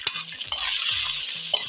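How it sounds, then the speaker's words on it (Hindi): Turmeric and chili powder stirred into frying keema in a pan, a soft sizzle with repeated scraping strokes of a spoon, close and steady, no voices. "अब ये मसाले डाल के एक दफ़ा इसको मिक्स करेंगे"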